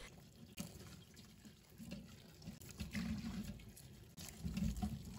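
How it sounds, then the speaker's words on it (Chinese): Running tap water pours over eggplants in a basin, a faint continuous splashing rush with small surges as the vegetables are rinsed, no talking. "把茄子放入盆中，然后用流动水给它冲洗冲洗。"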